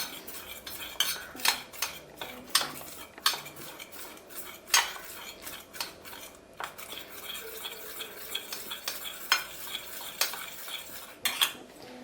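A spoon stirs cornflour into tomato paste in a bowl, giving close, irregular clinks and scrapes against the bowl's sides as the mixture is worked smooth, with no talk.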